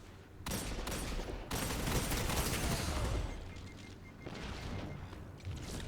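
Grenade blasts and heavy gunfire erupt in a Destiny 2 Crucible survival match, a dense, loud barrage of booms and rapid shots sustained throughout with brief lulls.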